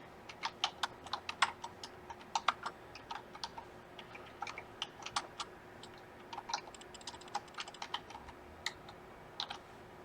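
A question is typed on a computer keyboard in quick, uneven clusters of close, crisp key taps, with no talking.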